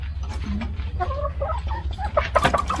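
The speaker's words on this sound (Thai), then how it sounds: "แจกกล้วยให้ไก่นะครับนี่ เราแจกกล้วยให้ไก่กัน ไก่มันชอบกล้วยมันประหลาด" Chickens in a backyard coop cluck and squawk excitedly while being fed bananas, a busy overlapping chorus of close, fairly loud calls over a steady low background hum.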